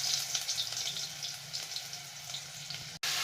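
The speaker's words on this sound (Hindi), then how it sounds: "तो तेल अच्छे से गरम हो चुका है, तो इसमें हम धीरे धीरे कद्दू डाल लेंगे।" Pumpkin pieces sizzle steadily in hot cooking oil in a kadhai while kaddu sabji is being made, a continuous broad hiss with small crackles that cuts off briefly near the end.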